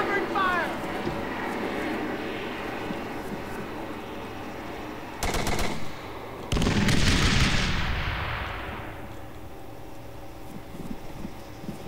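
Gunfire in a military shooter game: a steady bed of distant firing and engine rumble, then two sharp bursts of nearby shots around the middle, the second followed by a loud swelling roar that fades away.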